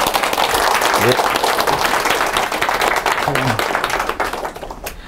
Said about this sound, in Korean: 조롱식 대표님을 큰 박수로 환영해 주시기 바랍니다